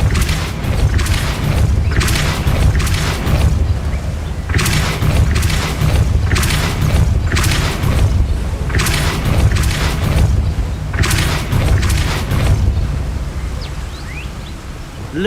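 Depulso force spells cast repeatedly in Hogwarts Legacy, a series of punchy whooshing blasts in quick groups over a dense, constant rumble of game sound.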